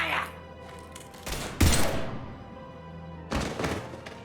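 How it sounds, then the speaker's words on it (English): Gunfire in the sci-fi shooter Mass Effect 3: a few heavy, loud bursts of shots and thuds spaced across the moment, over a low game ambience with faint voices. "Now open fire!"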